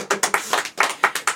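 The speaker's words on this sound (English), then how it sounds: "Retroactive clapping!" A few people clap in quick, uneven bursts at a comedy podcast taping, about seven sharp claps in under two seconds, close by and fairly loud.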